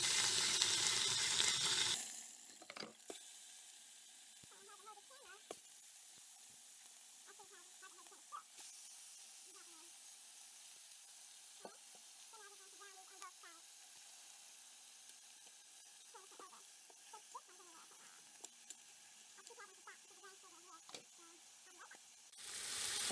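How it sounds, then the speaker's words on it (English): Oxtails sizzle in high-heat olive oil in an electric power pressure cooker set to saute, a steady faint frying crackle with scattered pops and occasional clatter, preceded by a brief loud burst at the start. "The power pressure cooker on saute, and I dropped one in there, and I'm browning all of them."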